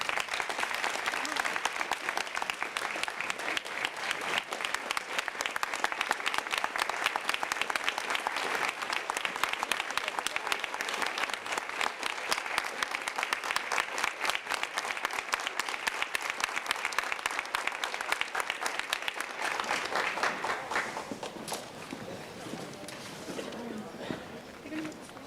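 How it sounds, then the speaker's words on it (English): Sustained applause with a standing ovation at a high school senior awards ceremony, dense clapping from a large indoor crowd that holds steady for about twenty seconds, then tapers off with faint murmuring. "Please join me in a round of applause and a standing ovation for Private Mackenzie Quibido."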